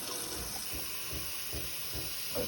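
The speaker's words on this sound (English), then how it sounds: "And get some hot water." Hot water running from a tap into a kitchen pot for chicken stock, a steady hiss with a faint, softly pulsing gurgle underneath, fairly quiet and with no talking.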